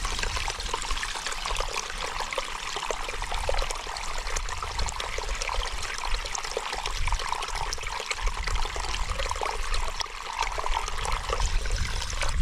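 Steady water trickling and pouring into a bottle at a wild campsite, a continuous close splashing flow with no talking.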